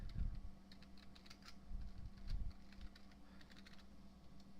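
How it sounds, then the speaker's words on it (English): Keys clatter in quick, uneven bursts as text is typed on a computer keyboard, close and fairly quiet, with no voices over the tapping. "And let's go ahead and type in here"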